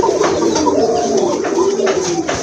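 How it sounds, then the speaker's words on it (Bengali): A pigeon coos in low, rolling repeated calls close by, steady throughout, with a faint background murmur. "একটা মুখী কবুতর দেখতে পাচ্ছেন"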